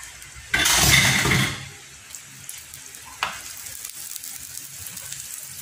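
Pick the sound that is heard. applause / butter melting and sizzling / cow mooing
butter melting and sizzling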